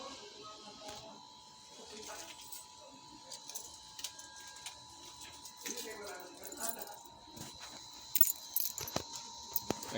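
A bunch of keys jingles in short bursts near a house entrance, light metallic clinks rising toward the end, with a steady electrical hum and a voice speaking in the background.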